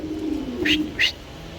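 Two young pigeons give a pair of short, close coos in quick succession over a low background hum.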